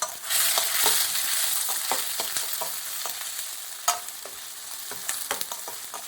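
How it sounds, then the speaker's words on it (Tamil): A mix of small and big onions frying in a pan, a steady close hiss of sizzling oil broken by sharp spoon scrapes and clinks as they are stirred. "உடனே வெங்காயம் போட்டுக்கலாம், இதெல்லாம் தீஞ்சிடும்."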